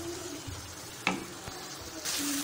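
An onion and tomato masala gravy simmers gently in a pan, giving a soft, steady sizzle with a brief clack of a stirring spoon near the middle and a slight rise in bubbling toward the end.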